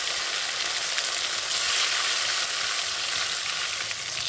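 Tomato tipped into hot oil and fried spice tempering in a home kitchen pan, a steady loud sizzle that swells briefly as it hits, with faint stirring and no talk.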